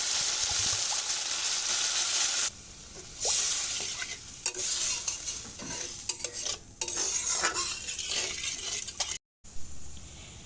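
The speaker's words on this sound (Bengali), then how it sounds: "এবারে আবার একটু পানি দিয়ে দেবো" Water added to frying spice paste in a pan for a hilsa and eggplant curry, giving loud sizzling and steady stirring scrapes that drop out briefly and return, with no talk.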